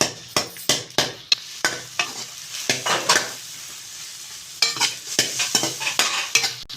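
Eggs frying in a pan for chicken fried rice, broken into small pieces with a utensil: a soft sizzle under repeated sharp scraping and tapping strokes against the pan, close up, with no one talking.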